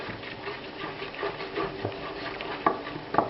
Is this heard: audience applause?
no